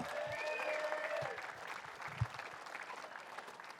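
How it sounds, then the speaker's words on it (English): Audience applause at a BMX pro championship awards ceremony: a steady, dense wash of clapping from a crowd that holds at an even level throughout, with a faint tonal hum running underneath. "keep that round of applause going for Natalia Diem."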